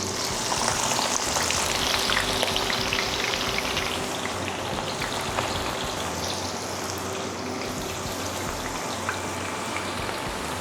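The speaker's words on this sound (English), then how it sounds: "we're going to shallow fry our onions in a couple of batches and get them browned up" A first batch of onions shallow frying in hot oil for chicken biryani gives a steady, loud crackling sizzle that runs unbroken from start to finish, with no voices over it.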